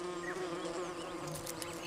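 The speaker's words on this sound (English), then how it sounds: "Rhopalidia wasps." Steady, close buzzing of Ropalidia paper wasps near their nest on a cave wall, a dense insect drone with a few brief louder passes, continuous and alone without voices.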